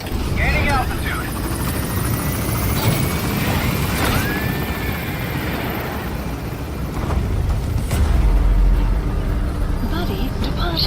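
Helicopter climbing in the game Metal Gear Solid V, its rotor thrumming as a loud, steady wash throughout, with a radio voice talking over it.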